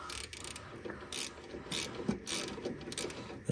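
A ratchet wrench tightens 15 mm strut nuts on a Lexus GX470 during front-end suspension work, giving repeated bursts of quick metallic clicking at moderate, steady loudness.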